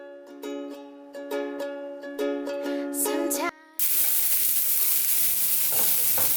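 Garlic and onion roasting in a pan give a loud, steady sizzle that bursts in after a short run of bright musical notes and carries on to the end without talk.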